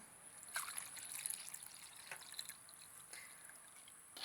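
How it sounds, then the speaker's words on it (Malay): Water is poured into a funnel during a school science demonstration. It makes a faint, quiet trickle with a few small splashy bursts and no voices. "ambil air yang telah disediakan dan tuangkan ke dalam corong"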